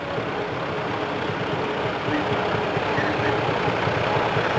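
A restored vintage tractor runs at a steady idle at an outdoor rural festival, its low, even engine rumble continuous and fairly close, with no talking over it.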